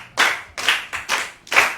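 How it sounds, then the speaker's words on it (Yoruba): Children clap for a classmate at a Yoruba children's programme, five loud close bursts of clapping in a quick uneven rhythm. "ẹ pàtẹ́wọ́ fún àmìdá o."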